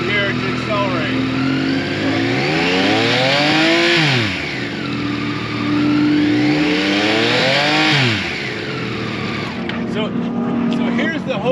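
A Yamaha motorcycle engine revving up and down in repeated sweeping cycles as the throttle opens and closes. It is loud and close, and someone is talking over it.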